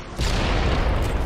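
A rocket launcher explosion in a first-person shooter video game, a sudden heavy boom that bursts in abruptly and rolls on as a dense, loud rumble.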